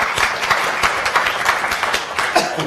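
An audience applauds at a report launch event: a close, lively patter of many hands clapping with an uneven rhythm, and no voices heard.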